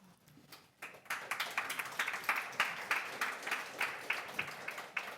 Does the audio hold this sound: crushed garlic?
no